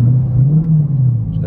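A Ford Raptor engine held at a steady 2000 RPM, a close, loud, even low drone lasting barely a second and a half with a slight dip near the end.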